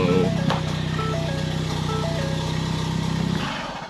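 A Ford Focus ST engine, being revived, turns over with a brief crank, then settles into a steady, loud running drone that fades slightly at the end.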